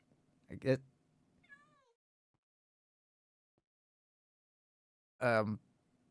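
Cat meows in the survival game Minecraft: a short, rising-falling synthetic meow sits between two brief bursts of a man's speech, fairly quiet against a silent background.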